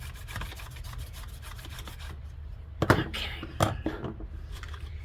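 A bone folder presses and rubs along a folded paper crease, giving soft scraping strokes and a few sharper rubs at close range.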